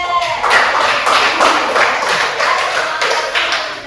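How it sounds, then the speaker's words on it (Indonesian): Indonesian classroom students clapping hands together in a brief round of applause, a loud cluster of sharp, uneven claps repeating in quick bursts for several seconds. "Oke, tepuk tangan dulu buat Nahda."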